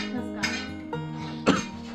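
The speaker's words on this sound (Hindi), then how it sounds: "जब आपको ऐसे खांसी आती है ना खाना बनाते टाइम, उसे ठसका लग गया" A woman coughs in a short fit while cooking at home, a few harsh bursts with one sharper cough near the end, under faint background talk.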